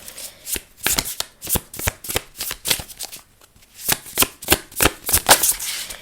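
Tarot cards shuffled by hand: a crisp, close series of about a dozen quick riffling bursts in an uneven rhythm, with brief pauses between them and no talking.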